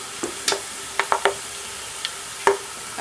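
Cardamom, cloves and black peppercorns fry lightly in a pan for aloo masala rice. A faint, hushed sizzle runs underneath a few sharp, sparse clicks and taps of a utensil against the pan, heard close.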